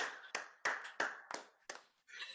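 Applause in a studio during a rapid-fire interview, a handful of sharp, separate hand claps at an uneven pace, close and fairly quiet, with no voices over them.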